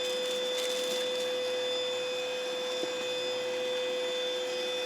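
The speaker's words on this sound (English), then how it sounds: "vacuuming up these chip crumbs on tile floor using the main head attachment" A Vacasso budget cordless vacuum cleaner runs on low mode with its main head attachment, sucking up chip crumbs from a tile floor: a steady, even motor whine with a constant electrical hum and no pauses.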